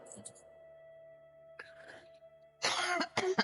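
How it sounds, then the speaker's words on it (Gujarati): A person gives a harsh, loud cough burst near the end, following quieter stretches with faint murmured voice sounds and a steady low background hum. "આવું કેવું ઉધરસ"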